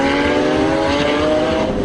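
A 2013 Lamborghini Aventador LP 700-4 engine revs hard out on the Vallelunga circuit, a loud, sustained, deep operatic roar held at high rpm and heard up close.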